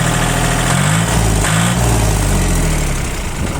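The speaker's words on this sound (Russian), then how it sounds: "На оборотах хотелось бы показать, как ровно работает двигатель." A Japanese 4x4 mini tractor with loader and rotary tiller runs its engine at raised revs, a loud, even, continuous drone with a steady low throb and no talking.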